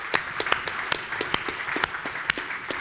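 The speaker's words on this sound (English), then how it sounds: "can we give a round of applause to Quentin for volunteering?" Audience applause for a volunteer at a film-directing masterclass, with sparse, irregular claps from a modest crowd, close and steady for a few seconds.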